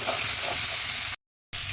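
Taro stems and taki fish being stirred into spices in a pan sizzle and hiss steadily, with light scraping of the stirring, cutting off briefly near the end before the frying resumes.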